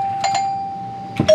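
A household doorbell damaged by power washing gives a thin, steady electronic tone with brief clicks and knocks as it is handled, and the pitch shifts at the end.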